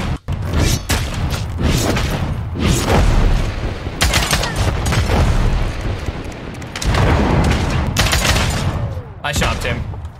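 Rapid bursts of gunfire from a Realm Royale battle royale match, loud and dense with repeated volleys and booming hits, broken by short pauses, with a player's voice talking over the shooting.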